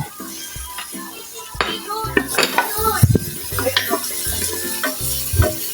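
Garlic and onion sautéing in a little cooking oil, a light sizzle under repeated clanks and scrapes of a metal spoon against the pot, close and uneven in rhythm.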